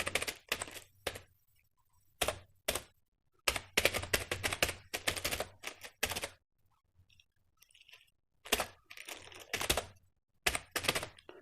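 Program code being typed on a computer keyboard: bursts of rapid, close key clicks separated by short pauses, loud and clear with no talking.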